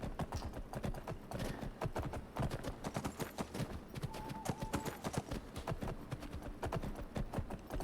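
Rhythmic clip-clop of galloping horse hooves in Skyrim, steady and close for several seconds with no talk over it.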